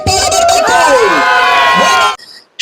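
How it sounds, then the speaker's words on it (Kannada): A crowd cheers and shouts at a cricket tournament final's prize ceremony, a loud, dense burst of voices with whoops and whistles that cuts off abruptly near the end. "ಜೋರಾದ ಚಪ್ಪಾಳೆ ಬರಬೇಕು"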